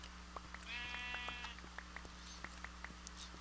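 A sheep bleats in the Minecraft video game, one drawn-out wavering bleat over a steady low hum and a run of soft regular clicks.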